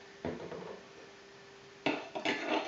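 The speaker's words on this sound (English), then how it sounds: "give that just a quick stir" A spoon stirs a milk mixture with vanilla extract in a bowl, giving a few faint, quick scraping and clinking bursts with no voices.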